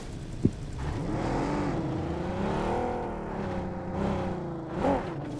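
A car engine in a battle royale mobile game revs and whirs, rising and falling in pitch across the stretch. A short sharp click comes early and a brief surge near the end, with no speech over it.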